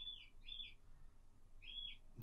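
Faint background birdsong: two quick high chirping phrases, a pause, then another short burst, thin and distant over a quiet, low ambient hum.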